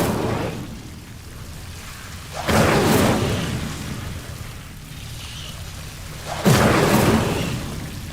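An Incendio fire spell cast in Hogwarts Legacy bursts out in two loud whooshing blasts a few seconds apart, each flaring up suddenly and then fading into a low rumbling background.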